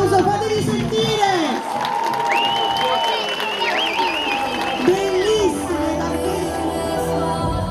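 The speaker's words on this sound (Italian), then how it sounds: "facciamolo questo applauso, fatevi sentire!" Audience at a Body Night dance, fitness and bodybuilding evening in San Vittore del Lazio cheering, whooping and applauding loudly and continuously, with shouts rising over the steady crowd roar.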